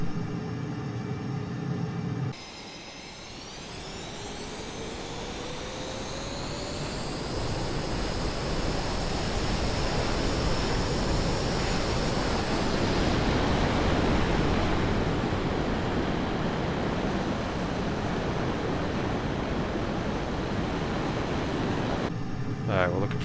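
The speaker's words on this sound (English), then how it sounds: "Now, F22 typical takeoffs are performed in mill power." Simulated F-22 jet engine in military power for takeoff in Microsoft Flight Simulator, a broad steady roar that swells and holds with a rising whine, loud and continuous with no talk.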